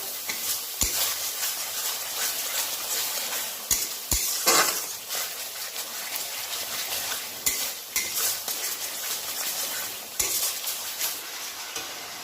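Turmeric and spices fry in a pan for a fish curry, sizzling gently beneath intermittent spoon scrapes and a few sharp clinks against the pan, close up, with no voices.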